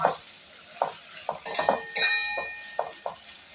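Mourala fish sizzling in a pan in a home kitchen, with a steady soft fry under repeated clinks and scrapes of a utensil against the pan.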